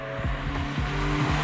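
A 1990s Toyota Starlet Glanza V, a JDM hatchback, pulling away, the engine revving up and dropping back through short gear changes, heard close from inside the cabin.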